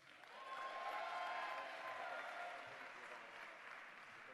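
A town hall audience applauds a newly elected state senator, a steady wash of clapping that swells and then holds at a moderate distance, with no talking over it.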